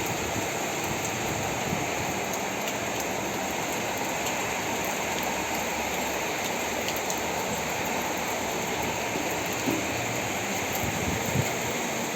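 Steady rain pours down in a constant, even hiss that goes on without pause and with no voices.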